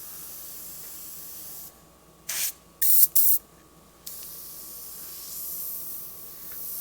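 Airbrush spraying black and grey paint onto a leather saddlebag, heard as short hissing bursts in quick succession, close and fairly loud against a quiet background with a faint steady hum.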